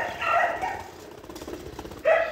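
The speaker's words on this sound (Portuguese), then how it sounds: "Eita cachorrada." Neighbour's dogs barking at a home, a couple of sharp yipping barks near the start and another burst near the end, moderately loud with background noise between.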